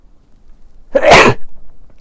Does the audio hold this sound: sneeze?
yes